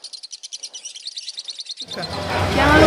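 A songbird in training chirps in a rapid, rhythmic run of sharp, bright calls close by for about two seconds, then a louder broadband rush of noise takes over.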